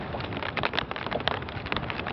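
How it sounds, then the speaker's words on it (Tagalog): Rain beginning to fall at sea during handline fishing, a dense, steady hiss of drops hitting the surface nearby, continuous and fairly loud throughout with no voices. "Umuulan na."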